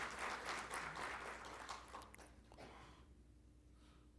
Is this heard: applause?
yes